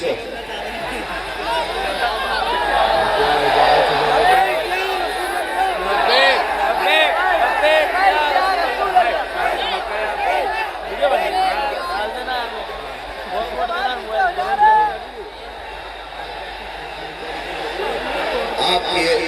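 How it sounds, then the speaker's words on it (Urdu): A large audience at a religious speech gathering in Indore fills the air with continuous crowd chatter, murmuring and shouted slogans that swell and ebb over about twenty seconds. "آپ کی آوازوں میں اور نعروں میں وقت ختم ہو جائے گا۔"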